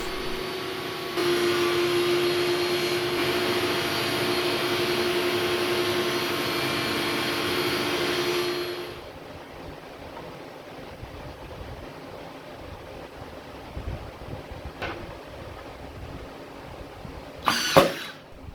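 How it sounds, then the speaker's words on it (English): A thickness planer sizes Formply strips down to final width with a loud, steady machine whine for several seconds, then winds down to quiet, leaving faint knocks and handling sounds. "The last step is to bring the strips over to the thicknesser to bring them down to their final width."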